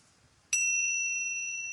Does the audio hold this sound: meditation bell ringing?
yes